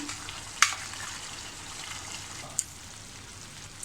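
Tomato and ground masala sizzle in a pan for a Malvani-style Marathi potato and pea curry, a steady soft frying hiss with two sharp crackles or clinks near the start and middle.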